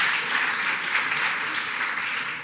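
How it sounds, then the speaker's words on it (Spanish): A church congregation bursts into steady, dense applause mixed with scattered cheers, a continuous near wash of clapping with no break across the moment. "Si alguien se alegra, aplauda, grite, haga lo que quiera"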